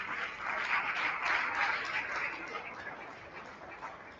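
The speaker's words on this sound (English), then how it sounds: "Please give Madam another round of applause" Audience applause fills a hall at a South West voter-access forum with an electoral commission official, a broad steady wash of clapping that swells early and slowly tapers off.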